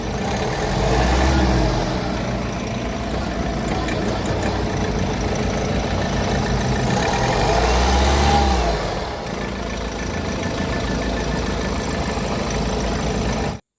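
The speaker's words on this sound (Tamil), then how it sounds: "பேனட் ஓப்பன் பண்ணி உங்களுக்கு என்ஜினை ஸ்டார்ட் பண்ணி காமிக்கிறேன்" A six-seater car's engine idles steadily at close range with the bonnet open, a low even rumble that swells briefly twice with light revs before cutting off at the end.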